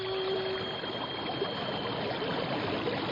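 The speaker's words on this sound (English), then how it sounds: "It sounds like a giant waterfall." A steady, loud roar of rushing water, like a giant waterfall or whirlpool, heard from a birch-bark canoe. It stays constant and broadband throughout, with a brief faint tone near the start.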